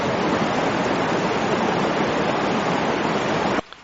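Creek water rushing under a covered bridge on Conservation Road, a steady, dense broadband flow at close range that cuts off abruptly near the end.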